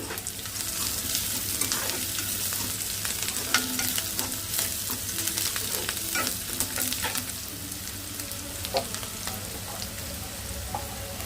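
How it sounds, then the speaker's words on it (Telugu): Crushed garlic fries with browned onions in oil, giving a constant close sizzle with frequent stirring scrapes and small clatters throughout. "ఉల్లిపాయ అయితే వేగింది. చితకొట్టిన వెల్లుల్లిపాయ వేసుకుందాం."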